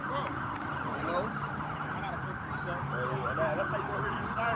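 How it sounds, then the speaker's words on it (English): Emergency sirens wail across a city in Thailand in the aftermath of an earthquake, a rising and falling tone running faintly behind steady background noise and a voice talking. "That's how you gonna hear these sirens, man."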